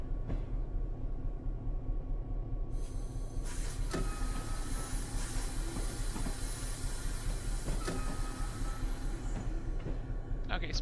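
A train runs in a train simulator video game, with a steady rumbling hum and hiss and occasional metallic clanks and squeals over a constant drone.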